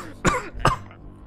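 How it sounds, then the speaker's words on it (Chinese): Dry coughing fits from two people choking on a cloud of dust after a heavy door crashes down and shatters: three harsh, close bursts spaced under a second apart, the last one cut off at the end. "呛得莫小鱼和顾依依干咳了好一阵子。"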